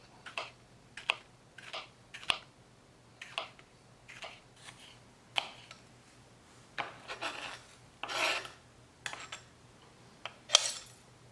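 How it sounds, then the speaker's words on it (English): A knife cutting a green chili into thin slices on a board, a string of quiet, sharp taps and scrapes at uneven intervals, some in quick pairs, close up and faint, with no talking. "Green chili. I'm going to cut into thin slices."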